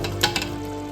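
Beef hits a hot pan with half the fried onions for Bombay beef biryani, sizzling steadily with two quick stirring scrapes near the start.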